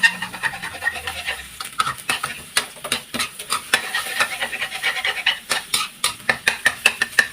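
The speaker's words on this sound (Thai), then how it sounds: "ได้ไข่สุกแล้วก็พักตักขึ้นพักไว้นะคะ" Cooked egg being scooped out of a pan while stir-frying preserved radish with egg, a steady run of close, light scraping and clinking taps of a utensil against the pan with a soft sizzle underneath.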